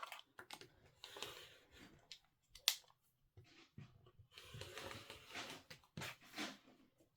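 Scissors snip through paper pieces for a bridge project in a quiet room, making a series of soft, close crisp cuts and rustles at an uneven pace.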